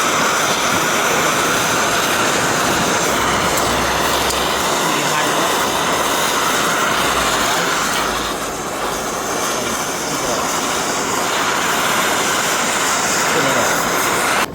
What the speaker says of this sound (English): I'm gonna take this off, burn it. So fire. Put some torch on it.